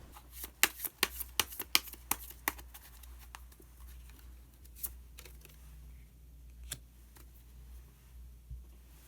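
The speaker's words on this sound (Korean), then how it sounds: "카드 한 장을 더 뽑고 이야기 계속 나오도록 하겠습니다" Cards being shuffled and drawn from a tarot deck, with a quick run of crisp close snaps and flicks in the opening seconds, then a few scattered soft card sounds over a low steady hum.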